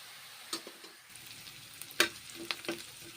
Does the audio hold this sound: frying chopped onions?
yes